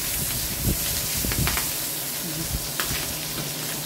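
Garlic and onion sautéing in a hot pan for pinakbet, a steady loud sizzle and hiss with a few stirring scrapes, close by and without talk.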